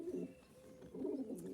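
Pigeons coo softly and close by, two low, throaty coos in quick succession in an otherwise quiet space.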